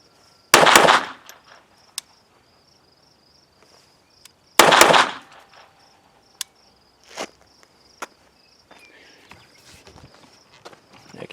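Two sharp handgun shots at a shooting practice session, spaced about four seconds apart, each a loud broadband crack fading quickly, with insects chirping steadily in the background and a few faint clicks and handling noises between.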